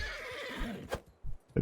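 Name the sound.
horse neighing in video game Bannerlord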